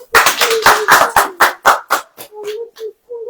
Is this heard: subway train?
no